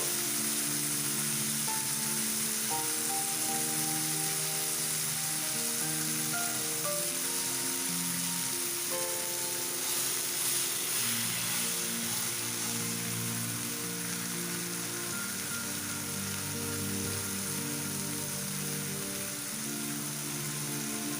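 Beef pieces sizzle steadily in a hot pan, fried one side at a time, a dense continuous crackle with a brief louder burst midway, no voices.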